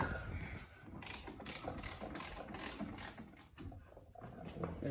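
A hand ratchet clicks in quick bursts of pawl clicks, tightening brake caliper bolts on a 2020 Corvette C8 Z51 during a brake rotor install, close and steady with no talk.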